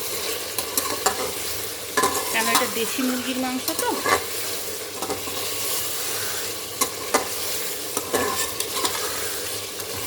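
Desi chicken meat being stirred and fried down in a kadai: a steady close sizzle with repeated scraping spatula strokes at irregular intervals, and a voice briefly talking over it.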